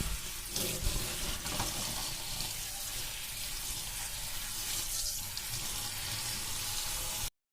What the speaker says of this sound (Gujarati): એ રીતે ધોવાની છે. એટલે એકદમ હળવા હાથે તમારે એની માટી ને બધું કાઢી નાખવાનું છે.